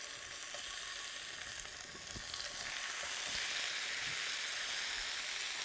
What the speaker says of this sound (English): we're going to pre-cook the meat to a rare stage by roasting, stewing, or browning it in a little bit of hot oil like I'm doing here